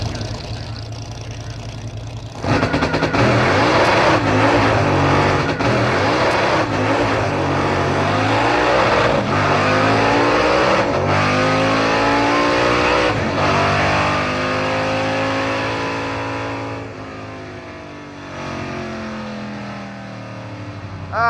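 A 1976 Dodge Dart with a 318 V8 launches at a drag strip, rumbling loudly up close and then revving hard and rising in pitch through the run before it fades, with a voice briefly audible.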